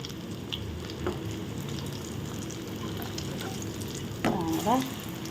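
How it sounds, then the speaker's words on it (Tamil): Green gram susiyam fries in hot oil with a steady, dense sizzle throughout. A voice speaks briefly near the end. "நம்ம எண்ணெய் வந்து கொதிச்சுட்டு பாருங்கள் அந்த எண்ணெயில் வந்து போட்டுட்டு"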